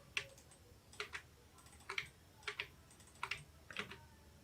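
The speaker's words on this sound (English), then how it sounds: "Press 6 on the keyboard." A computer keyboard clicks quietly during modelling work in Maya, with about eight evenly spaced single key presses, faint and close, and no voice over them.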